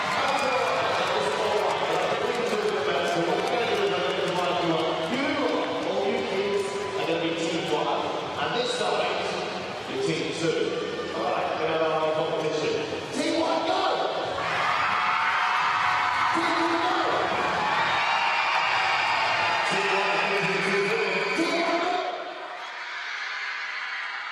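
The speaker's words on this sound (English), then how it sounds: "Crowd inside the venue here at the Aquatic Centre being revved up on the pool side." A poolside crowd at the Aquatic Centre during the London 2019 World Para Swimming Championships cheers and whoops continuously in a large reverberant hall, loud and sustained, with a commentator talking over it before it fades slightly at the end.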